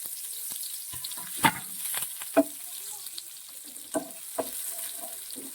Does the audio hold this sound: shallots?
yes